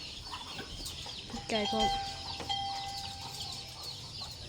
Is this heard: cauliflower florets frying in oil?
no